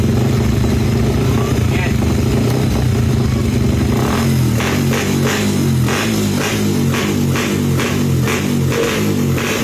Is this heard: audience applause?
no